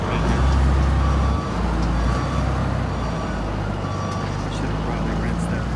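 Komatsu WA180 wheel loader idling and working as it lifts its bucket, a steady low diesel rumble with a heavier surge early on, close and continuous.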